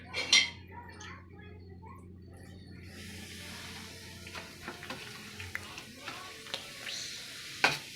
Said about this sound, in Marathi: लवंग मिरे यांची पावडर केली आहे ती दळून घेत तळून घेते